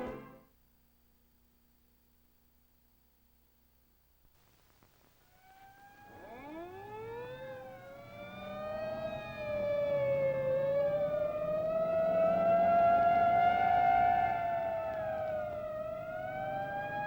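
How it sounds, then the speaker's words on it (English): An ambulance siren in a 1960s television drama rises from silence, swelling and wailing as it draws closer and grows loud, holding a steady rising-and-falling tone. "An ambulance speeds through Peyton Place on its way to the Harrington house."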